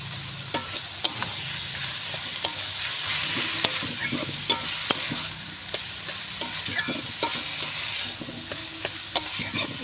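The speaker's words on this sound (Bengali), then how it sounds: "এবার 10 মিনিট এইভাবে সুন্দর করে ভাজবে।" Shredded cabbage ghonto with salt, turmeric and homemade lentil dumplings fries in a pan, giving a steady sizzle broken by sharp scraping clicks of a spatula as it is stirred at a regular pace.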